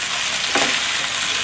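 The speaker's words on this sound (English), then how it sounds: "You can hear the sizzle sound." Loud, steady sizzling of broccoli, mushroom, baby corn and bell pepper stir-frying in a hot pan, with a brief surge of crackle midway.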